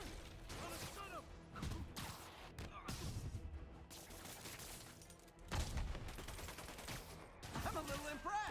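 Enemy gunfire in Marvel's Spider-Man Remastered on PC, heard as repeated bursts of shots and crashes separated by short pauses, with game voices calling out between the volleys.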